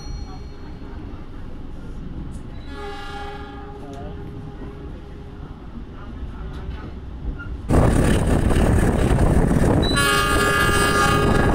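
A passenger train, the Cikuray service between Garut and Bandung, rumbles along steadily. A loud horn sounds in long blasts, the noise swells sharply partway through, and a faint voice is heard early on.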